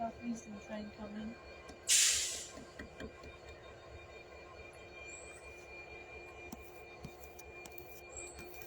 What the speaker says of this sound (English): Oh, there's a southeastern train coming.